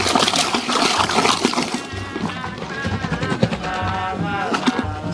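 Palm wine being poured into a 25-liter container, a continuous splashing, gurgling liquid stream close by that runs for the whole stretch with small uneven surges.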